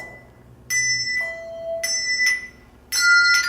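Small handbells ring out in three separate bursts, bright and clear with lingering metallic tones, close by with quiet gaps between.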